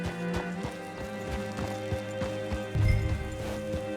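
A horse galloping in Red Dead Online, rapid rhythmic hoofbeats close and steady over game ambience.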